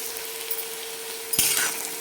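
Onion sautéing in a pan for tomato chutney, a steady soft sizzle with a faint constant hum, then a sudden brighter burst of frying and a scrape of stirring near the end, close and moderately loud.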